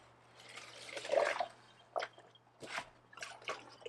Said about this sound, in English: Ugh, I hate the splash.